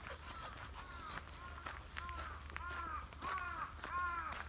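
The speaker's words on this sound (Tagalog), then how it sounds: "malaking ibon yun. Panigurado. Hindi ko lang nakikita. Boses lang." A large bird calling repeatedly from a distance, harsh cawing cries in irregular bursts over footsteps and rustling outdoor noise.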